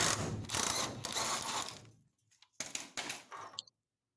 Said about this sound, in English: not a good time removing these bolts